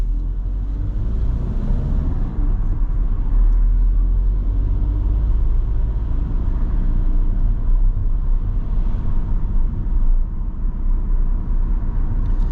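A vehicle drives through Northenden traffic on a Didsbury driving-test route, following behind a bus, with a steady low engine rumble and road noise held at an even level throughout.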